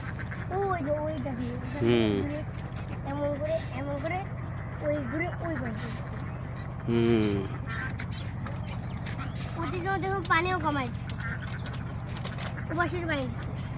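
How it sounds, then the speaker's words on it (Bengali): Ducks at a riverside farm quack in loud, scattered bursts, several birds calling close by in a near-constant stream, while people chat over them outdoors. "নদীর পাশেই হাঁসের খামার না?"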